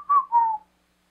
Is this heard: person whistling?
yes